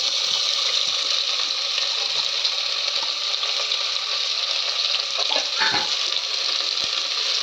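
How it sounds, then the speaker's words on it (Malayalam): Onions sizzling in hot oil in a pan for biryani, a steady close hiss of frying with occasional scraping stir noises toward the end and no talking. "ഉള്ളി ഇട്ടിട്ട് നമ്മൾ നല്ലോണം ഇളക്കി കൊടുക്കുക"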